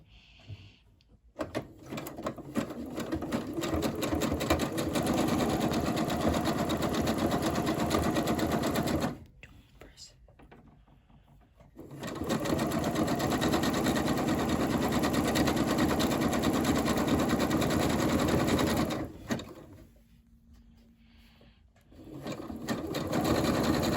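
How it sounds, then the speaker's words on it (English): A sewing machine runs a zigzag stitch along a folded hem of fleece cloth for a hat, whirring loudly and steadily in two long bursts separated by short quiet pauses, with no talking. "fold up your cloth by 1 inch and make a zigzag stitch"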